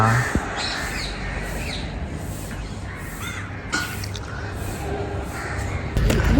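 Crows caw a few times at a distance over steady outdoor ambience, with a faint rustle and a brief knock near the end.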